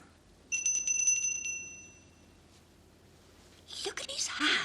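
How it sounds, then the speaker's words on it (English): A bicycle-style bell rings in a quick series of bright strikes early on, then fades; later there is faint whispering and rustling close by. "Ring the bell."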